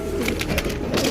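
Pigeon cooing at close range, a soft throaty series of low pulsing coos filling the short stretch, alone without talk.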